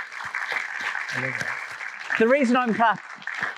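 Hand clapping during an entertainment masterclass for students, a steady rattle of claps running through the whole stretch at moderate loudness, with a voice talking over it partway through.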